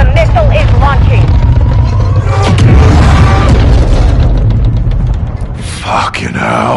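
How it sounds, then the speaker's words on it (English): A missile launch in the Modern Warfare 2 campaign rumbles as a loud, sustained low roar with booming bursts around the middle, over dense game noise and shouted voices. "the missile is launching"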